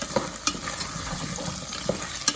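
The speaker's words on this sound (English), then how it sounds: "1 carrot and a clove of garlic. We're gonna mix that around a little bit." Carrot and garlic stirred in a hot pan, a soft steady sizzle with a few scraping spoon knocks, close and alone without talk.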